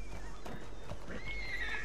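A horse in the video game Red Dead Redemption 2 lets out a loud, close whinny over a continuous backdrop of game sound and hoof clatter.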